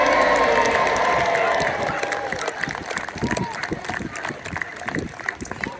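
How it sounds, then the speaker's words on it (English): Crowd at Peasholm Park in Scarborough cheering the model ships after a naval battle show, a broad roar of voices and shouts fading into chatter, with someone talking over a loudspeaker. "Give them a cheer!"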